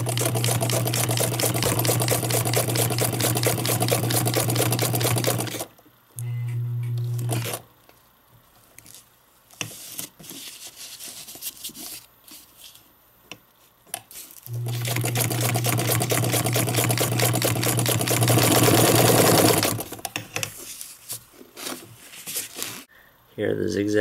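A vintage Necchi BU sewing machine runs steady bursts of narrow zigzag satin stitching, its rapid mechanical whir starting and stopping between quieter pauses, with a person talking at times.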